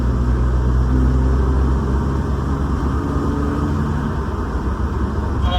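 A Nissan 350Z cruises along with a steady, loud, close engine and road rumble droning evenly from inside the cabin, no voices.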